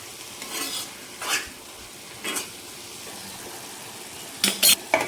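Ponnaganti leafy greens are stirred in a pan, with soft intermittent scraping strokes over a faint sizzle, then a cluster of louder metallic spoon clinks against the pan at the end, no voices.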